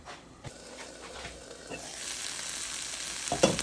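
Lemon pepper taco filling simmering on low heat in a pan, a faint steady sizzle that gradually swells, with a few soft knocks and a brief clatter at the end.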